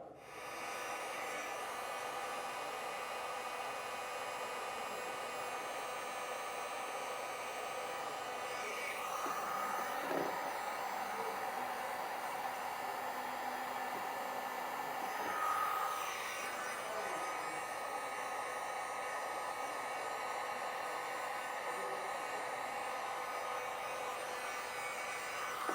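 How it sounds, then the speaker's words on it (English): Heat gun blows a steady, airy whoosh like a hair dryer while shrinking heat-shrink tubing onto a wire, running continuously and evenly for about 25 seconds with slight swells as it moves. "we're gonna get a heat gun and heat this up so it does shrink down to the wire"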